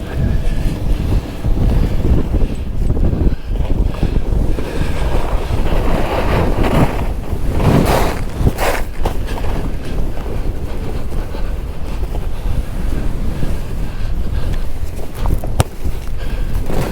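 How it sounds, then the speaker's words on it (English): Cold north wind gusting across a snowy mountain at a ski area after a snowstorm, a steady loud broadband roar with buffeting against the microphone throughout, no talk. "It's a north wind, very cold, good for the snow."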